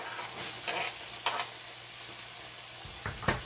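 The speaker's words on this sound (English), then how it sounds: "I'm going to fry these onions" Onions frying in a pan give a steady soft sizzle, broken by a few brief stirring scrapes near the start and end, with no talking.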